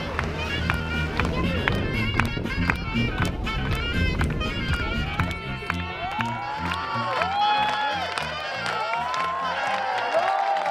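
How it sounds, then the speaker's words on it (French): Festival crowd at an outdoor street-arts event cheering and clapping as a performer lands softly, a lively mix of applause and voices with music and someone talking over it. "Atterrissage en douceur, sous les applaudissements du public"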